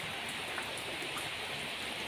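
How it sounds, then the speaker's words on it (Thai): Rain falls steadily through a stormy day, a dense, even hiss of drops with no voices, fairly soft and unbroken. "ฝนก็คงจะตกทั้งวันนะคะ ตกแบบว่าเดี๋ยวก็หยุดเดี๋ยวก็ตกนะคะ"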